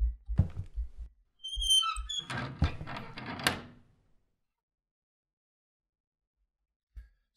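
Creaky door opening sound in a horror video game, a slow drawn-out wooden creak with squeaky hinge tones after a few low thumps, then near silence and one soft final knock.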